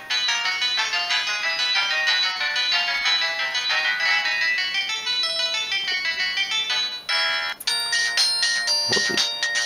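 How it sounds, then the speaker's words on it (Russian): A Samsung C200 polyphonic mobile ringtone plays a busy electronic tune, then a different synth melody cuts in near the end, loud and continuous. "Давайте послушаем рингтоны."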